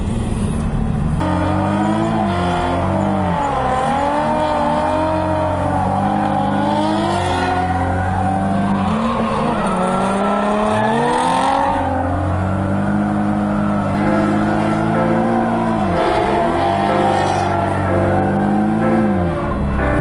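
Several cars being drifted, engines revving and rising and falling in pitch with gear changes, loud and close and continuous throughout, with hints of tire squeal and no talking.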